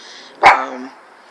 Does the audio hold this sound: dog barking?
yes